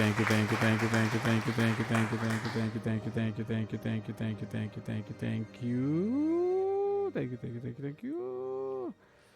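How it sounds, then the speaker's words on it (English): Rhythmic hand claps rattle off in quick succession, then give way to sustained tonal sounds and brief gaps, all fairly loud and close. "I appreciate those hand claps."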